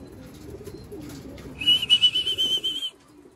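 Breeder pigeons coo in low, throaty murmurs at close range, followed by a short burst of rhythmic wing flapping that rises louder for about a second before quieting again.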